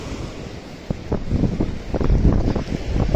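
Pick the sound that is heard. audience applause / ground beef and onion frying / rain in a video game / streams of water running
streams of water running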